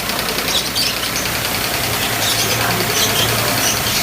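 A small power sprayer engine used for washing soil off ginger runs loud and steady at close range, a continuous mechanical drone with a high whine and no talking.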